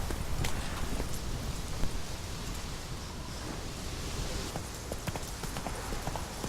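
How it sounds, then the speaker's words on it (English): Horse hooves clip-clop steadily in Witcher 3 under a constant rain-like hiss, the footfalls fairly close and blending into broadband noise. "let's go get on the horse and head to Oxenford"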